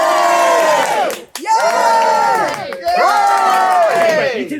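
Outdoor theatre audience at an improvised Shakespeare show cheering loudly in three sustained bursts, with children's high voices shouting and whooping together, each burst ending before the next rises.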